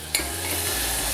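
Tomatoes tipped into a frying pan of sizzling spice seeds with turmeric and red pepper for an Indian broccoli and paneer dish; a brief wet splash, then steady close frying hiss.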